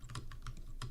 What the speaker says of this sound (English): I mean, it's my keyboard.